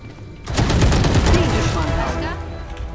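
Rapid automatic gunfire from the tactical shooter Valorant, a loud continuous burst lasting a couple of seconds and then tapering off, with a voice heard faintly underneath.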